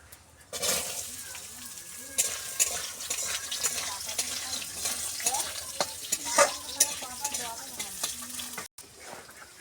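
Potatoes dropped into hot oil with five-spice and bay leaf sizzle and crackle in a pan, with stirring scrapes and utensil clinks throughout, close and fairly loud.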